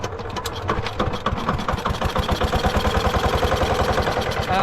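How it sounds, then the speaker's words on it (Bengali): A small fishing boat's engine on the Ganges starts up and settles into a loud, steady rhythmic chugging that runs throughout, close by, with no speech. "তো ইঞ্জিন স্টার্ট হচ্ছে নৌকা"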